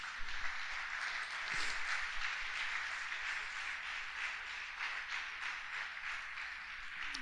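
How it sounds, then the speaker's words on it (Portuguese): Congregation in a Portuguese-language church service applauding: a steady, continuous wash of many hands clapping throughout, moderately loud and without a break. "Quem crê e entende isso, aplauda o Senhor Jesus."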